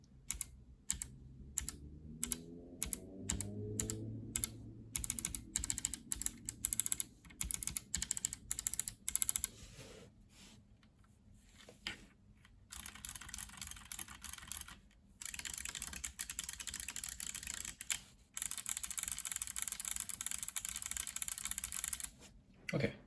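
Kailh Speed Bronze clickbar mechanical keyboard switches being pressed, bursts of rapid sharp clicks in irregular runs with short pauses between them, close and crisp with no talk.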